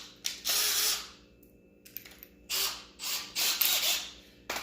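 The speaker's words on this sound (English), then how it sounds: "I'm gonna screw one side down and then cut the excess off for the other side" A power driver sets self-tapping screws into a panel in short separate bursts, each a loud whirring spin of a few tenths of a second, with pauses between the runs.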